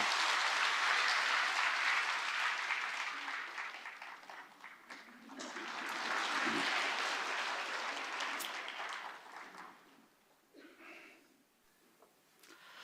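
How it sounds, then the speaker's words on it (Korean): A church congregation claps at length during a Sunday service, dense and continuous, fading partway, swelling again, then tapering off. "우리 아이를 박수로 축복합니다."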